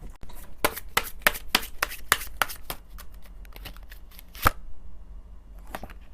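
Tarot cards shuffled by hand before a draw, a close, quiet run of crisp riffling flicks in a quick uneven rhythm, pausing briefly, then a few more snaps.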